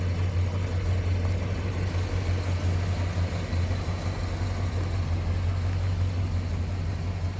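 A 1955 Chevy Bel Air engine idles with a steady low hum, even and continuous, close by with no other sounds.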